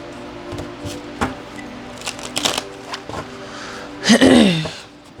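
Tarot cards riffle and slap together as an Emotional Intelligence deck is shuffled, a run of soft papery flicks and taps with one louder, denser burst of shuffling near the end.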